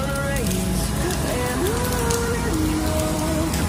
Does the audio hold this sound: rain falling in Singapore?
yes